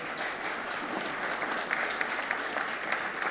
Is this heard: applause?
yes